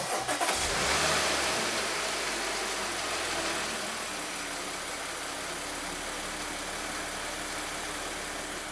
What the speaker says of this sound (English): The engine so far is warming up and it's not rattling. It has a very smooth idle.